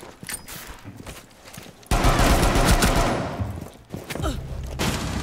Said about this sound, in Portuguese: Eu acho que eu acertei tiro no Hulk.